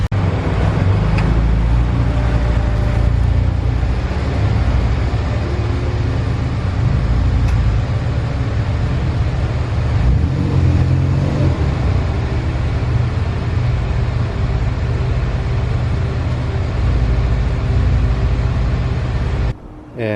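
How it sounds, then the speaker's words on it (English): A turbocharged Mitsubishi Lancer drives into a garage, its engine a continuous loud, close low rumble that holds steady throughout before cutting off abruptly at the end. "let me go ahead and move my Lancer into the garage right now."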